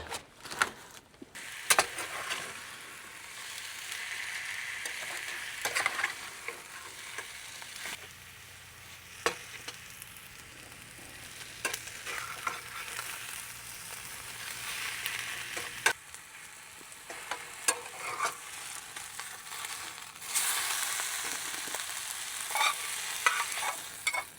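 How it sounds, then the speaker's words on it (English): Leftover steak and peppers fry in a pan, a soft, continuous sizzle broken by intermittent stirring and clanks of a utensil, fairly quiet and close. "I've got some leftover steak I'm going to throw in there and a couple more peppers."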